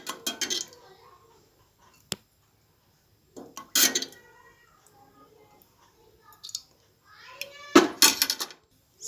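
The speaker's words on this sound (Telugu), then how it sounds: "సో ప్యాన్ పెట్టేసి 3 స్పూన్స్ ఆయిల్ వేద్దామండి." A pan is set on a stove and three spoons of oil go in: scattered metallic clanks and spoon clinks against cookware, separated by quiet gaps, with voices murmuring in between.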